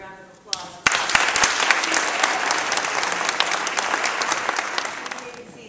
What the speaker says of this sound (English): Would you give your families and loved ones a round of applause?